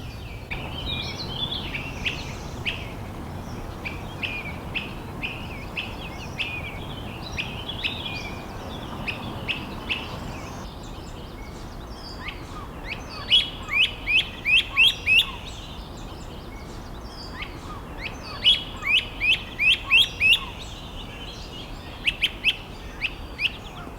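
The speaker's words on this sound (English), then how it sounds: "I was able to get some reasonably short little video clips of this great crested flycatcher" A great crested flycatcher calls on a mountainside in May, with repeated short, bright whistled notes in clustered bursts, louder and closer in the second half, over a steady wash of outdoor background.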